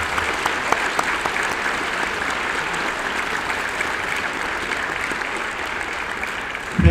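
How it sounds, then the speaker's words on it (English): A school audience applauds at a Veterans Day assembly honoring local veterans, with steady, dense clapping throughout that sounds like a large indoor crowd and a brief louder burst at the very end. "If we could please give them a round of applause to show our appreciation."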